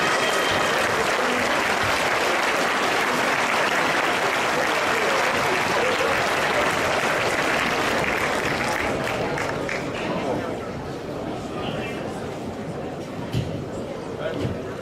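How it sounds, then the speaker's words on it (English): A crowd in a high school gym applauds award nominees at a girls varsity basketball game, with steady, dense clapping that thins slightly later on, and scattered voices and a few louder individual claps. "Let's have a nice round of applause for all these WB Hawkins nominees."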